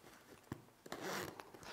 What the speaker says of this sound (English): zipper runs super nice